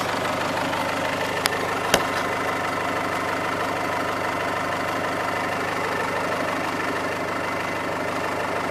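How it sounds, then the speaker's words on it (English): A vehicle engine runs at a steady idle to power a hydraulic winch through its power steering unit, a constant close rumble with two sharp clicks early on and no talking. "We're going to start this thing up. And we're going to wind the winch,"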